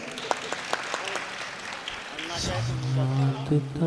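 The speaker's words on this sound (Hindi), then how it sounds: "आप चाहें तो तालियां बजा सकते हैं" Scattered hand claps from an audience at a Jain Bhaktamar lamp-offering festival in Muzaffarnagar ring out for about two seconds, then a voice speaks over the fading applause.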